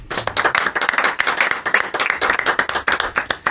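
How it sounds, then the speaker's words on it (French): A small group in a hotel applauds a show's guest, with distinct, closely spaced claps in a quick uneven rhythm, loud and near, and no talking over them. "on t'applaudit."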